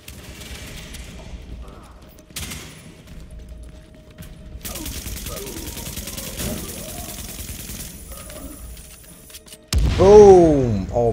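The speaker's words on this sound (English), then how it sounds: "Oh my god, explosions like in Michael Bay film" Game-style gunfire rattles in bursts through the first half of Tom Clancy's The Division, joined by mechanical clatter, then a loud blast with ringing debris near the end.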